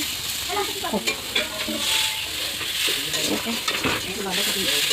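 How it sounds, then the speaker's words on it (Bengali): Sliced onions sizzling in a hot pan, an even crackling hiss close up, broken by the scrape and clatter of stirring and faint talk in the background. "পিঁয়াজ ভাজা করছে"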